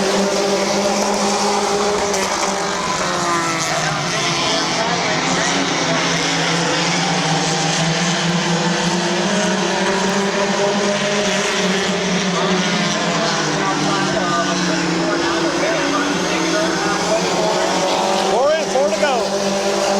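Race cars roaring around the oval at Midvale Speedway during a 2004 race, a loud continuous wall of engine noise with rising and falling pitch as cars pass, with no one speaking.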